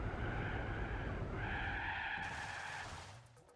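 Tires skidding and squealing as a big, heavy car snaps into oversteer in Gran Turismo 4, with a steady, loud screech over engine rumble that fades out near the end.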